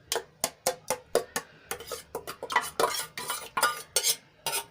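Mashed potatoes for a Gujarati-style potato curry go into a pressure cooker and are stirred, giving a run of close, distinct metallic scrapes and knocks, first evenly spaced, then quicker and busier.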